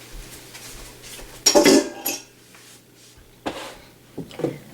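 Metal parts of a Cabela meat grinder being fitted together, with the blade going onto the cylinder: sharp clanks and clinks, the loudest near the start, followed by a few lighter knocks in a quiet room.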